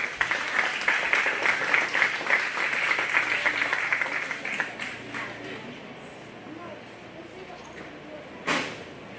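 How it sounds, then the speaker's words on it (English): An audience at a county fair 4-H and FFA beef and bucket calf show claps for the exhibitors, a burst of applause that tapers off over a few seconds, with an announcer's voice and arena noise beneath. "Let's give these three exhibitors a round of applause."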